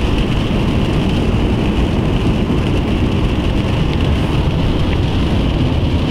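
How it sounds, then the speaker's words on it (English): Heavy rain drums on a moving car in a steady dense wash, with road and engine rumble underneath, constant and loud throughout with no talk. "What started out as a sunny day back at home has turned into a rainy mess."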